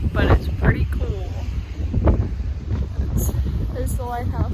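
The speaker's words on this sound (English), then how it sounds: "It's so windy." Strong gusty wind buffets the microphone on the Irish Sea coast near a lighthouse, a low rumbling roar throughout, with a person talking over it.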